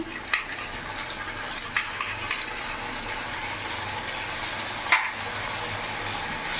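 Onions fry with ginger, garlic and chili paste in a pan over a medium gas flame, giving a steady, loud sizzle with a few scraping stirs and one sharper clatter partway through.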